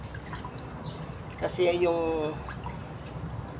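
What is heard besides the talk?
water dripping while watering a pansit-pansitan plant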